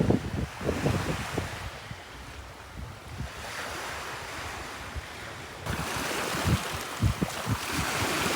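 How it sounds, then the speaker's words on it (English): Big waves crash and surge onto a Thai island beach with a steady, roaring wash of surf, loud and close, with gusts of wind buffeting the microphone and heavier breaking swells toward the end. "The waves are so big"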